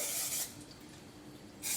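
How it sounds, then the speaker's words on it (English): Olive oil cooking spray hisses out of a can in two short bursts, one at the start and one at the end, close and fairly quiet with soft kitchen handling in between. "So we got the olive oil spray."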